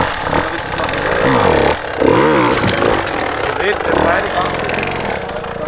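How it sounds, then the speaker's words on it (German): A 150cc enduro motorcycle is ridden over a tree trunk, its engine revving up and down in repeated throttle blips with rising and falling pitch, loud and close while someone talks over it. "der zweite Gasstoß hilft mir halt, dass ich einfach das Vorderrad noch mal ein bisschen in die Luft geht"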